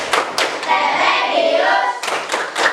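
A small group claps a quick rhythmic chant pattern, sharp bursts of hand claps at the start and end with a short gap of softer voices and murmur between, close and loud.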